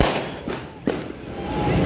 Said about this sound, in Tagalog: Marami pong fireworks sa may highway.